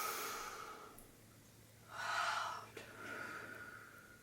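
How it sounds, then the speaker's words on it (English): A deep, slow inhale during gentle yoga stretching, an audible breath drawn in close to the microphone, framed by quieter breaths before and after in a calm, still room. "Breathe in."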